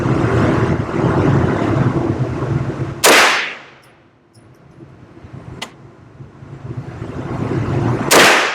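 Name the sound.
CMMG Mk9 9mm carbine rifle gunshots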